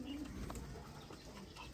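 Chapra pigeons coo softly and low, a faint brief call heard at a distance over quiet background noise.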